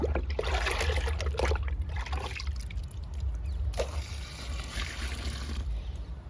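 Liquid is poured onto a guava plant outdoors, making a steady close trickle and splash that runs the whole time over a low rumbling background.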